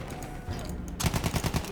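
Rapid bursts of automatic gunfire in the Battlefield 1 video game, a dense rattling volley of close shots erupting after a stretch of distant rumbling battle noise.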